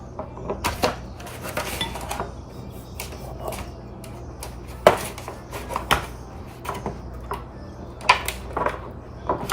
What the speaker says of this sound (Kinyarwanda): Iki cyuma cyanjye nanjye ntikiyaza ku ngutiya, cyanze kiri kwanga guca